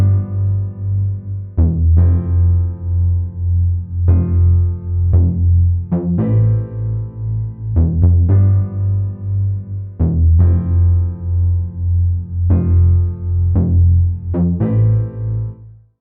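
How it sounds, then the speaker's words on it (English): Deep Amapiano bass line programmed in FL Studio, sustained low notes pulsing in a steady repeating pattern with brief plucked accents on top, loud and alone without any talking. "Then the bass."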